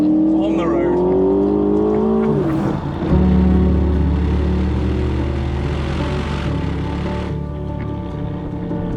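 An Aston Martin DBX SUV driving on a road: a smooth engine hum with a steady pitch that rises and then drops sharply at a gear change before settling into a lower drone, with talking over it.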